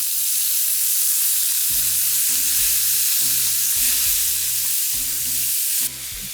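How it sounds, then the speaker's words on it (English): Baby spinach cooks in a hot pan with a loud, continuous sizzle and hiss, close by, while a low repeating tonal pattern sits underneath. "So now I'm gonna cook off some baby spinach right in that same pan."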